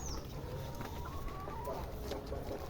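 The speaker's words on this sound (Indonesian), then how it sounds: "Ada kandang ayam juga ini." Chickens in a coop near rice paddies cluck faintly from a short distance, with a few bird calls over a steady outdoor background.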